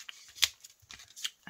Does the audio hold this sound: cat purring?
no